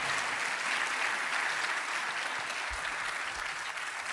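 A church congregation claps throughout a Spanish sermon by Pastor Rafael Vargas, a thick, even roar of many hands at steady volume for the whole stretch.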